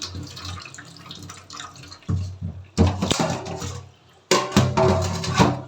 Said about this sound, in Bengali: আর লোটে মাছ কিন্তু ধুতে কোনো অসুবিধাই না বেশ সুন্দরভাবে ধোয়া হয়ে যায়